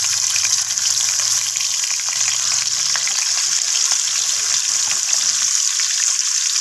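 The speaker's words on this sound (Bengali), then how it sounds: "এরপর আমি মাছগুলোকে তেলের মধ্যে দিয়ে দিচ্ছি।" Rohu fish pieces fry in hot mustard oil, producing a loud, continuous, close crackling sizzle that holds steady throughout with no talking.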